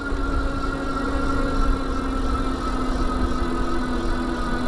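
A Cyke Cheetah e-bike motor pulls hard up a hill with a steady, loud electric whine and a constant tonal hum, joined by rushing wind and light rattle, with no voices.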